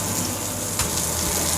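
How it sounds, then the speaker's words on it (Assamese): Chopped onion and mustard seeds sizzling in hot oil in a pan, a dense steady crackle and hiss up close, alone with no voices. "তেল গৰম হ'ল গৰম হোৱাত মই দি দিছো পিয়াজ"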